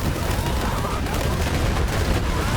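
Rapid gunfire and grenade blasts from the shooter game Borderlands 3 form a dense, loud, continuous barrage of shots and explosions throughout.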